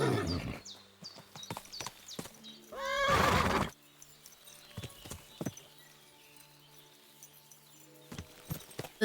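A horse in Kingdom Come: Deliverance 2 gives one loud, close whinny lasting about a second. Scattered soft hoof clops and thuds follow over a quiet background.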